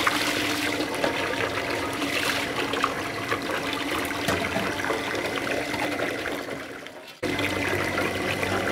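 Water is poured over caladium tubers to wash them, a continuous close rushing splash with a brief break near the end before it resumes.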